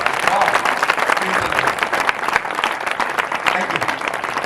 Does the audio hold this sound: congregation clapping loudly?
yes